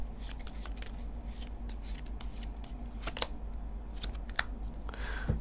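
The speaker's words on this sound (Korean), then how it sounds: "조언 카드 한번 뽑아볼게요." Tarot cards are shuffled and drawn in a quiet room, giving soft rustling with a few sharp snaps and clicks of cards at close range. No one speaks.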